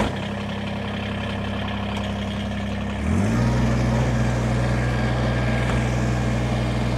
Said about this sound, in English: I'm going to fire this tractor up.